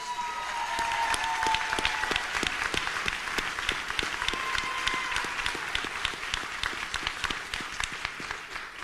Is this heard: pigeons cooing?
no